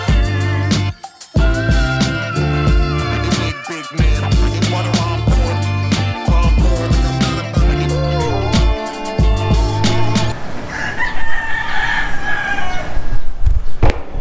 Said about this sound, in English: We're right next to a rooster farm or something, and these guys kicked off at about 4:30 this morning